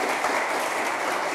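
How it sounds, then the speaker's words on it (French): Studio audience applauding steadily on a French quiz show, a dense, even clatter of many hands that stays at a constant level from start to finish with no one talking. "Merci quand même d'applaudir Gilles Christ."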